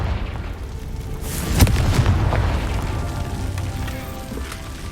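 A Confringo fire spell explosion in Hogwarts Legacy, a sharp boom around mid-clip with a rumbling, crackling burst that lingers over low ambient game noise.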